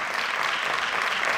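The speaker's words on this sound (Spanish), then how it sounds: "fuerte ese aplauso para todos ellos" At a Christmas music concert in Palma del Río, an audience gives the performers a brief, loud burst of dense applause.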